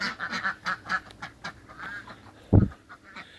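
Ducks in a farm pen quack in a rapid, chattering series at close range, followed by a single louder, sharper sound near the end.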